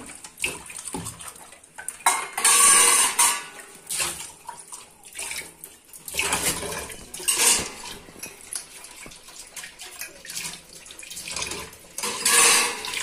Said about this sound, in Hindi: तब तक तो बर्तन साफ कर देते हैं